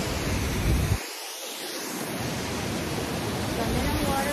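Alamere Falls waterfall on a California coastal hike, a constant broadband rushing roar with gusts of wind buffeting the microphone and briefly cutting the low rumble.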